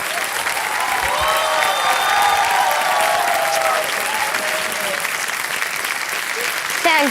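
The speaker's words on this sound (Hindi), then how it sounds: "तालियां बजाएं इनके लिए।" A studio audience at the Kaun Banega Crorepati quiz show applauds continuously, with bright musical tones sounding over the steady clapping.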